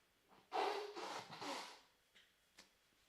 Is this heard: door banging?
no